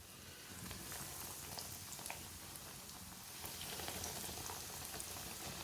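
Tikki patties sizzling in hot oil in a home kitchen pan, a steady dense crackle and bubbling that runs continuously at moderate level with no voices.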